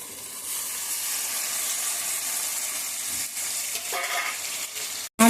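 Tomatoes go into sizzling ginger garlic paste in a pan and are stirred, a steady close frying hiss with a brief burst of louder spatter before a short break near the end.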